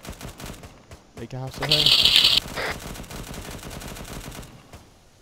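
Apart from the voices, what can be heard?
gunfire in a military video game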